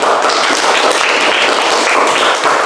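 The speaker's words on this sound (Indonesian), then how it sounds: "Kita tepuk tangan sekali lagi." Classroom of students clapping together, a loud, dense and continuous burst of applause filling the room at close range, with no talk over it.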